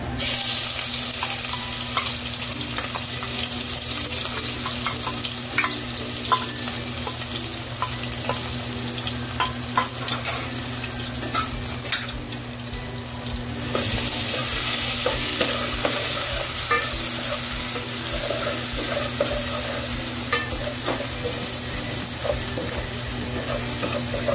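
Taro paste and extra green chilies fry in hot oil for a spicy restaurant-style dish, giving a loud, steady sizzle with frequent stirring scrapes throughout and no talking.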